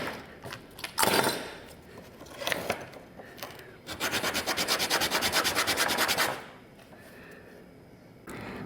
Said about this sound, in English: With a knife and some sandpaper, I'm going to cut off a flat on that where the air is going to pass through.